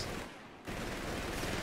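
Suppressing machine-gun fire in a war video game makes a brief, dense wash of sustained automatic shots that dips for a moment and then surges back steady and loud.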